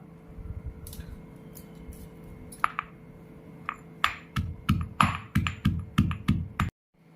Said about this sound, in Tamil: அதையும் இதில் ஆட் பண்ணி நல்லா இடித்து எடுத்துக்கலாம்.